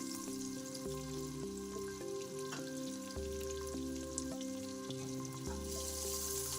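Crushed green chillies and a pinch of asafoetida fry in hot oil with a continuous close crackle and fine spatter, under a faint steady background hum.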